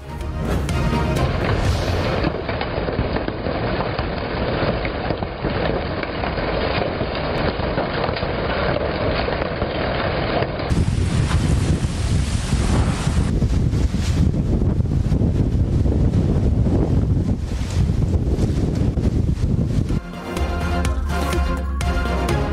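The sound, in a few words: strong storm winds in Islamabad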